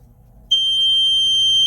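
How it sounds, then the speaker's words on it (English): A high-pitched electronic buzzer on a 1996 Sea-Doo Speedster, set off by grounding a sensor wire, switches on abruptly and holds a steady, piercing tone, with a low hum underneath. "if I ground this, it should set off the buzzer"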